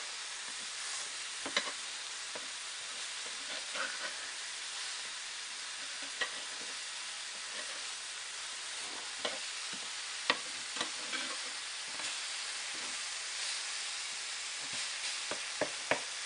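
Lamb chops fry in a cast iron pan under a constant close sizzle, while a steel spoon scrapes and taps against the metal at irregular intervals; no speech.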